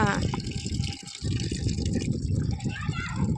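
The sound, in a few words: water being poured from a bucket onto a plant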